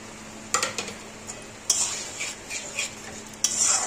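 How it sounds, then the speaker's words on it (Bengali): A utensil scrapes and clinks against a pan as boiled potatoes are stirred into a spice masala for a vegetarian curry, with several sharp scraping strokes and a faint sizzle in the background. "এবার দিয়ে দেবো সেদ্ধ করা আলু।"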